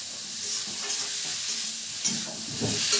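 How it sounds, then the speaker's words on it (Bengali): Ground cumin sizzles and fries in a hot pan, with a steady crackle and occasional scrapes of stirring. The cooking noise is close and continuous, and no one speaks. "জিরা গুঁড়ো একটু ভাজবো"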